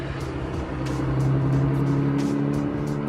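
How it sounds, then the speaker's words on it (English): A neighbour's car drives past outside, its engine hum swelling and holding steady for a few seconds at moderate distance. "and then my neighbor's driving by"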